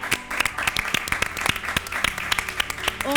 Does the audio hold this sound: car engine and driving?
no